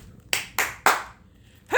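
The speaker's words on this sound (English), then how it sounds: "I don't want to go to bed. I want to clap instead." Three sharp hand claps in quick, even succession, close and crisp against a quiet background, followed by the start of a voice.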